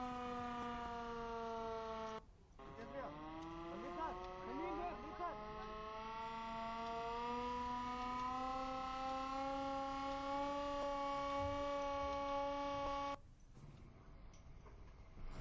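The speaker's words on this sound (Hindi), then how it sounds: "नागरिक सुरक्षा संगठन ने सायरन बजवा करके 2 मिनट तक यातायात को पूरी तरीके से रोक दिया" A civil defense siren sounded to halt traffic for two minutes holds one long, steady wailing tone that rises slightly, loud and continuous over faint street noise, with brief breaks near the start and end.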